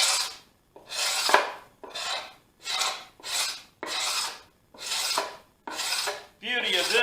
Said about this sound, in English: We're pulling off all the excess glue.